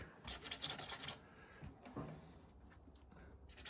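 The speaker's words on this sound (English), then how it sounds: "I'm just scratching off the excess. I'm not trying to cut the tyre." Short bursts of dry rasping and scraping as excess paint is scratched off raised tyre lettering, close and fairly quiet, fading to faint handling noise.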